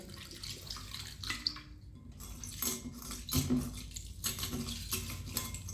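Water is poured into a bowl for cleaning silver items in a home kitchen, with soft splashing and light clinks of metal and dishes, close by and quiet, with no voices.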